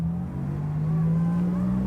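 A freshly restored 1955 Jaguar XK140 MC idles steadily after a cold start, its engine giving a close, continuous low hum with a firm tonal drone throughout and no speech.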